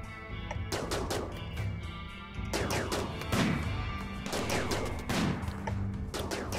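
Gunfire in the RimWorld game as raiders shoot at a turret: repeated sharp bursts of shots and impacts at irregular intervals, loud and close, with no talking over them.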